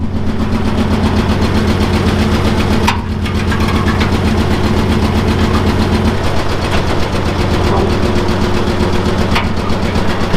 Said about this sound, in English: It's a straight six, and it sounds okay, but it might be kind of missing on one.